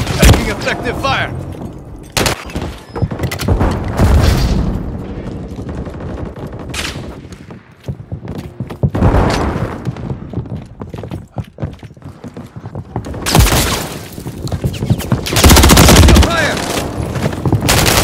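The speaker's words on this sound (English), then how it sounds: "Taking effective fire." Call of Duty gameplay with bursts of automatic gunfire and heavy impacts that come and go in loud clusters across the stretch, mixed with game voices calling out.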